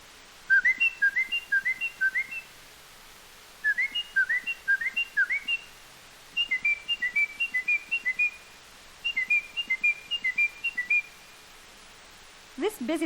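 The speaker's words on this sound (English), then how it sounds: "Have you ever heard the Carolina Wren?" Carolina wren song rings out loud and clear in four repeated phrases, each a quick series of bright, rolling whistled notes, with short pauses between them. No talking is heard.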